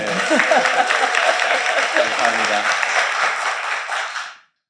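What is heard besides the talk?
audience applause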